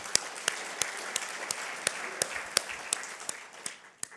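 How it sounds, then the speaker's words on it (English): An audience gives a round of applause at a motivational talk, a steady wash of clapping from the crowd with sharp individual claps standing out, heard alone without speech. "give yourselves a hand of applause"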